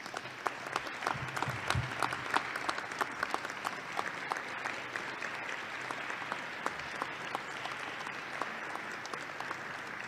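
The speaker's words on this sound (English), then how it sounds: "I want to give him another round of applause here today because he deserves it." Sustained applause from an audience in a legislative chamber at the Illinois House Speaker's inaugural address, a dense steady patter of many hands clapping for about ten seconds with no speech over it.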